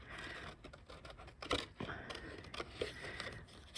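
Scissors snip slowly and carefully through paper craft pieces, a run of quiet, close crisp cuts over a soft steady background hiss.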